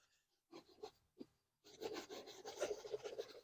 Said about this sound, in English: let me rub it with some soap first